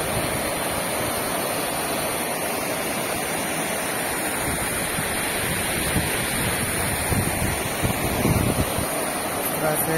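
Loud, steady rushing water roars continuously at the Pansua Dam spillway in Jharkhand, India, broadband and unbroken, with faint wind buffeting on the microphone.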